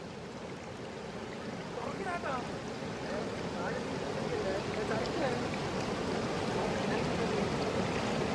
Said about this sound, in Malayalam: ഇവിടെ നമ്മള് വെള്ളച്ചാട്ടം മെയിൻ സംഭവം കാണിച്ചു.